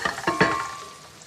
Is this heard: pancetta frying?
yes